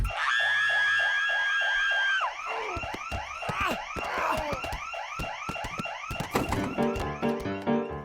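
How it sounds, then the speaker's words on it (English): A loud wailing emergency siren at a hospital emergency room sweeps up and down, then shifts to rapid yelping and honking tones, with no speech. "And then the real siren kicked on."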